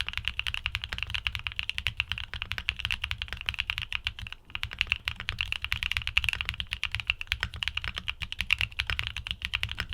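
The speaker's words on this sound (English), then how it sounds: "the Venus and Neptune switches have a neutral to deep sound signature. Here's the sound test for reference." Rapid, steady clacking of mechanical keyboard keys with Venus and Neptune switches being typed on, dense and close, with a deep thocky tone and one brief pause.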